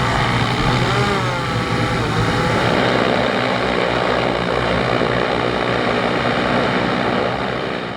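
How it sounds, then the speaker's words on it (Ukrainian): Propellers of a Kazhan heavy bomber attack drone drone loudly and steadily up close, a dense buzzing roar that holds at constant strength throughout, with no talking. "Перед нами Кажан, важкий бомбер. Кажан, да, тяжелый ударный дрон."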